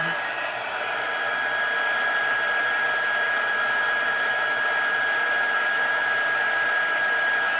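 An embossing heat tool blows a steady, loud, continuous whir with a high whine as it melts embossing powder on a stamped card, running unbroken throughout.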